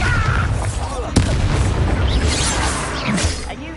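A Bombarda blasting spell explodes in Hogwarts Legacy, a loud booming burst with a sharp crack near the start, followed by rumbling debris and further blasts.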